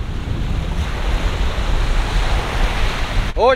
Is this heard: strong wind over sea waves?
yes